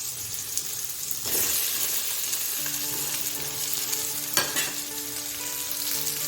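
Boiled potatoes being stirred into a sizzling tomato masala in a pan, a steady loud fry with a few spoon scrapes and clinks, close and without speech.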